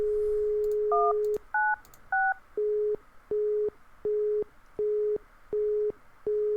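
A phone being dialed in the video game The Mystery of the Druids: three quick keypad tones, then a busy signal beeping in an even, repeated pulse, clear and close, with no talking.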